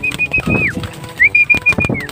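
Racing pigeons coo close by in a loft, two drawn-out rising and falling calls with soft rustling and shuffling beneath, no one talking.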